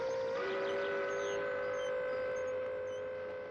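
A steam-era train carrying Red Army recruits to the front in spring 1943 sounds a long, sustained whistle or horn, steady and fairly loud, holding its tone before fading slightly at the end.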